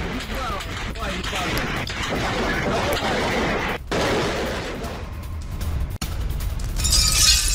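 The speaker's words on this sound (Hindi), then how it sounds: "दूर दूर तक सुनाई दी धमाके की आवाज।" Drone-attack explosions near the Millerovo military airfield rumble as a continuous dense roar with scattered sharp cracks, loud and sustained throughout.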